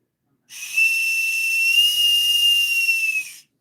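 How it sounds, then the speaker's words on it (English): A single steady, shrill whistle like a boatswain's pipe, from a handmade whistle, sounds close and loud for about three seconds with a clean sustained pitch, then cuts off; no talk. "It sounds like a boatswain's whistle, don't it?"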